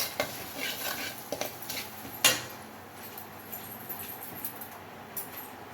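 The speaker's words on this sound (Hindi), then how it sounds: "अब इन मसालों को अच्छे से फ्राई कर लेंगे।" Garam masala and dried coriander are being fried in a pan with a spoon, a faint, quiet scene of soft stirring and scattered light clinks. One sharper scrape of metal on the pan stands out near the middle, with no talking.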